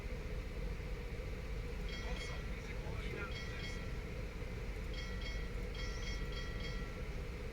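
Diesel motors of a U-boat starting up in the video game UBOAT, a steady low rumbling drone that holds evenly throughout, with faint higher tonal chirps over it.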